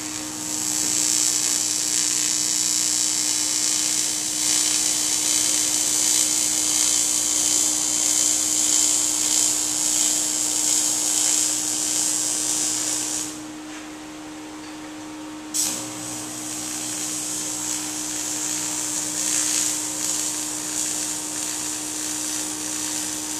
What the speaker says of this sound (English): The aluminum TIG welding.